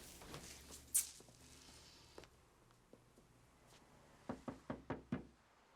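Knocking at a door: a few faint scattered taps, then a quick series of five firm knocks near the end, close and clear in a quiet room.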